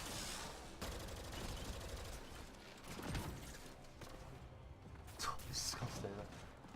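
Rapid automatic gunfire from an assault rifle in a first-person shooter, bursts of shots crackling continuously over busy in-game effects, with a few sharper impacts near the end.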